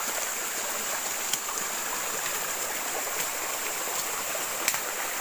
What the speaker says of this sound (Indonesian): aliran sungai yang bakal kita eksplor atau kita telusuri tidak bisa kita lewati ya teman-teman